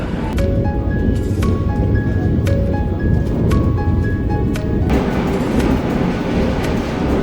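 The Vande Bharat Express train, on a Dharwad to Bengaluru run, rushes along at full speed with a loud, continuous roar from inside the coach and a repeating warning tone that stops partway through.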